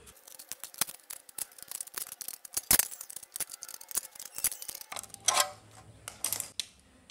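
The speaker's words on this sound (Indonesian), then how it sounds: "Gunting sampai tanda yang kita buat." Repeated sharp metallic snips and crunches of hand shears cutting through a thin hollow lightweight steel profile, irregular and close, followed by a brief scraping rustle.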